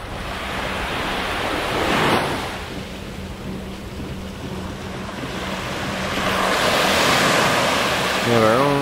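Surf washes onto a Gulf beach south of Marco Island, with rolling waves building and receding under gusty wind buffeting the microphone, close and fairly loud, while a voice is faintly heard near the end.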